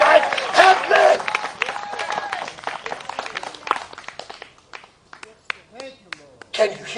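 A worship congregation claps in a lively, irregular burst that thins out into scattered claps, while voices carry over the top.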